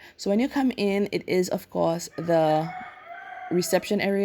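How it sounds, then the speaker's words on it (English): A rooster crows somewhere in the background, a drawn-out call sitting faintly beneath a person's steady talking. "if you hear the rooster crowing in the background"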